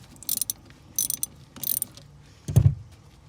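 A ratchet wrench works a 10 mm battery terminal nut loose to disconnect a car battery, three short bursts of close metallic clicking followed by a dull knock, with no talk.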